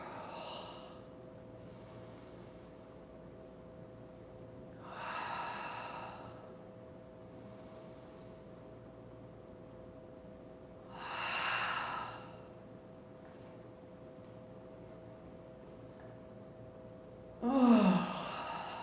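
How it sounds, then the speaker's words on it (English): Deep, slow breaths during kundalini yoga, with three long airy exhalations spaced several seconds apart over a faint steady hum, the last one sharper and closer, and no speech. "Exhaling, breathing in and up, and then breathing out."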